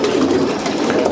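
Racing pigeons coo inside a loft, a steady low murmuring of several birds close by with a dense rustling background and no talking.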